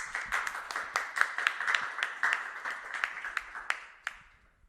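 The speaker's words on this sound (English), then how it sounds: "Let's give her a round of applause" Audience applause for a woman at a documentary-making talk session, a dense burst of clapping that holds steady for several seconds and then tapers off to quiet, with no voices over it.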